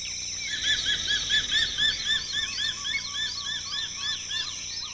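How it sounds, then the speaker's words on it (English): Repeated high-pitched bird calls ring out from a tall forest nesting site of the crowned eagle, a steady run of short yelping notes for several seconds with no talk. "Here, 200 feet up, is the nesting site of the crowned eagle."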